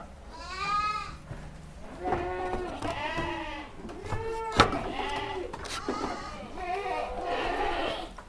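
On a goat breeding farm, adult goats and young kids bleat loudly and close by, with repeated wavering cries that overlap one after another, and a sharp knock partway through.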